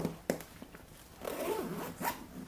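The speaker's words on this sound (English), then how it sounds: "zip it up" A zipper runs along a Drago Gear 36-inch double rifle bag, a quick pull at first, then a longer rasping zip with small handling sounds, close and alone.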